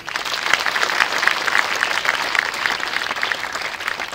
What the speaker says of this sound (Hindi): नारद मुनि के लिए जोरदार तालियां हो जाए